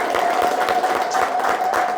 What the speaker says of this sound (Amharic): ረጅም ሰዓት አጨብጭቡላችሁ።